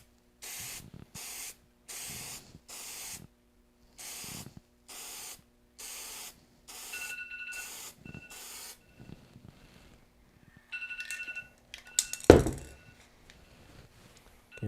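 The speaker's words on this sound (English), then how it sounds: "I'm going to put another coat on it." Spray can laying a finish coat on a guitar peghead: a run of close hissing bursts, each about half a second long with short gaps between, followed by quieter handling clicks and a sharp knock near the end.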